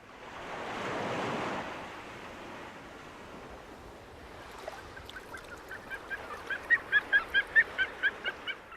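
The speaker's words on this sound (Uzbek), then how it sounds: "Mana bu o'rdaklar Arktikadan qishlash uchun bu yerga uchib keladi." Waterfowl flocking on a sea shore near steep cliffs, a wash of surf at first, then a rising series of rhythmic honking calls, close and growing louder.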